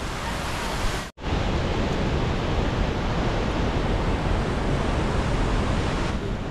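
Waterfall beside a mountain trail on the Kedarnath trek, a steady broadband roar of rushing water close to the microphone, with one brief dropout near the start and no talking.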